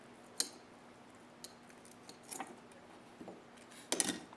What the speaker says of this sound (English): you take the scissors and you cut it